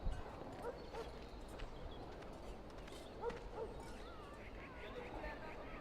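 A large dog in the video game Dragon Age Origins, found in Denerim, gives a few scattered barks among clopping footsteps and a faint background murmur, fairly quiet and set in a busy game scene.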